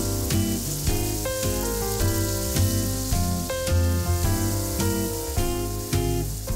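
Red wine poured over braising lamb hisses and sizzles loudly in a hot pan, a dense continuous crackle with frequent sharper pops, no talking.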